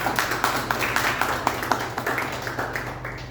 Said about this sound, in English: I would request all the audience to give a big round of applause.